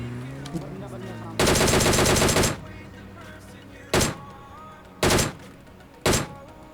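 Gunfire in a video game: a long burst of automatic fire comes first, then three short separate bursts, loud and sharp. The shots are heard alone, with no talking over them.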